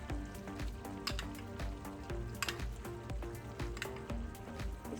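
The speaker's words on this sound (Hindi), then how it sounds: "4 टेबल स्पून यहाँ पे दही आ गई और हम करेंगे इसकी भुनाई। चम्मच को चलाते रहेंगे" Yogurt sizzles and fries with mutton in a pan as it is stirred continuously for a smoky dahi gosht, with steady close crackling and the scrape of a spoon throughout.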